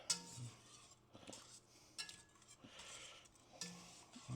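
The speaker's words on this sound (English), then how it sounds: "I've got a whisk here because I do want to just make sure everything is evenly incorporated" Whisk scraping and clinking against a pot as tomato is stirred into a chuck roast ragu, a few quiet metallic taps and swishes in irregular bursts with no talking.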